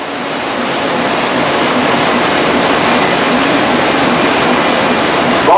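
A waterless offset printing press runs on synthetic paper with a biodegradable plastic base, giving a loud, steady broadband roar that holds unbroken from start to finish.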